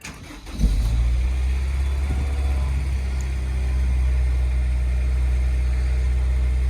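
A 2007 Honda S2000 with 39,000 miles starts on its push button: a brief cranking burst, then the engine catches and settles into a steady, fairly loud high idle with no talking.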